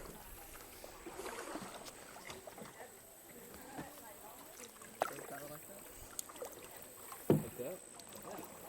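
A kayak moves over cold water as paddle strokes make soft, irregular splashes and drips, with a couple of sharper strokes near the end and a quiet voice under the water sounds.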